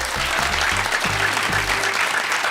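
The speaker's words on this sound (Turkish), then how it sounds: "Alkış" A studio audience at a Turkish quiz show applauds a correct answer, a dense, loud, sustained clatter of many hands with a low musical tone faintly underneath.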